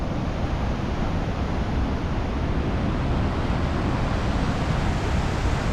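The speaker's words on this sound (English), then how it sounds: "the swell hugs this coastline and just runs up on these rocks here" Ocean swell surges up onto rocks along an Australian coastline, a loud, unbroken wash of broadband rushing water that holds steady throughout with no voices.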